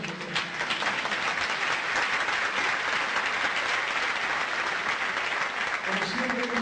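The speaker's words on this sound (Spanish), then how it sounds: "aplaudan a nosotros" Audience applause at a university speech event, a dense steady clatter of clapping filling the whole stretch at moderate level, with faint crowd noise and voices mixed in underneath.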